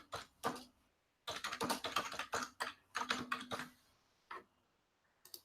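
Someone types on a computer keyboard at close range, tapping out one short burst followed by a longer flurry of keystrokes and a few final taps, with no speech.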